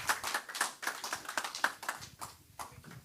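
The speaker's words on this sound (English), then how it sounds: "Please give him a round of applause." Sparse applause at a church Bible study and communion service, a handful of claps in an irregular rhythm, fairly faint and thinning toward the end.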